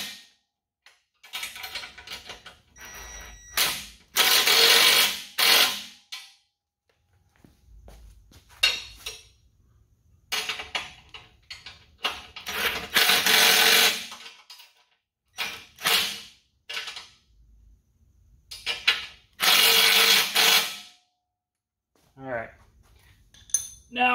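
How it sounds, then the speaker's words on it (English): A ratchet wrench tightens skid plate bolts on a Bronco in several bursts of sharp metallic clicking, close up and separated by quiet pauses, with occasional speech. "I'm going to come in here on the sides with my wrench."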